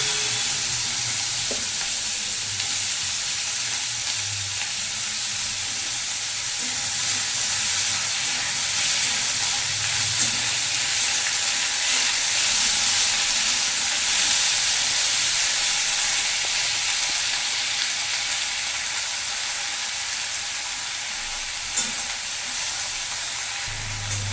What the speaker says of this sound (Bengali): পেঁয়াজটা লাল করে ভাজা হবে।